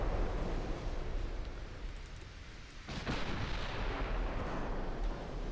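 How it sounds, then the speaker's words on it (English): Ammo detonation explosion in the naval warfare game Ultimate Admiral: Dreadnoughts, a dense, roaring blast wall with a fresh boom surging partway through, loud and sustained with no voices. "Ooh, ammo detonation"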